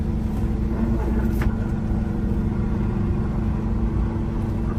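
A 2021 Peterbilt 389 truck idles with a deep, steady diesel rumble close by, a faint mechanical clunk as it is shifted into gear.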